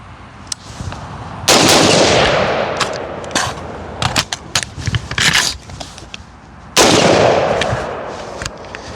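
AR pistol shots fired outdoors, loud sharp reports in quick pairs and singles, with two bursts of heavy echoing blasts standing out, and mechanical handling clicks between them.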